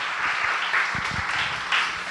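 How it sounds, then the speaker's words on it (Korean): Congregation applauding at a New Year's Eve church worship service, a steady wash of clapping from a crowd in a hall, moderately loud and continuous with faint low thumps underneath. "박수하시겠습니다."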